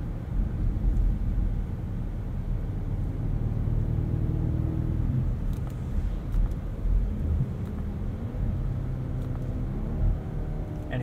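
Low, rumbling exhaust from a 2021 BMW Alpina XB7 heard from the cabin while cruising, with soft burbles and pops on the overrun under steady road and engine noise.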